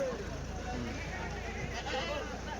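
Goats bleat amid the crowded hubbub of a weekly goat market in Kadiri, with people talking close by over a constant din.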